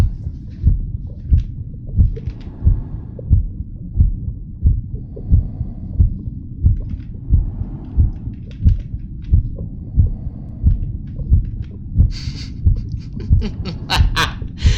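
Heartbeat sound effect, a steady close thumping double pulse repeating throughout, loud and even, with faint chatter and a few brief higher noises late on.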